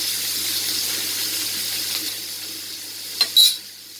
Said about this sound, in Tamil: இன்றைக்கி நான் வந்து சாதாரணமாக தான் வதக்கிட்டு இருக்கேன்